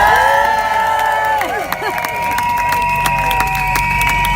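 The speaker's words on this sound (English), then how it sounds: "let's have a huge round of applause for Mr. Ric O'Barry" A crowd at a dolphin protection event in London applauds and cheers, with clapping and whoops mixed with a steady tonal hum and a voice cutting through.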